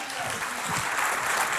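A church congregation applauding during a service, a brief burst of dense, steady clapping from many people filling the room.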